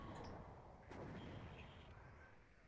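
Artillery fire in the Cold War strategy game WARNO, a dense rumbling barrage with a fresh heavy boom about a second in, the roar rolling on and slowly fading.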